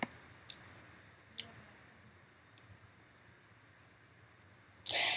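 A computer mouse clicks a few times, each click short, faint and close against quiet room hiss, ending in a louder burst of noise.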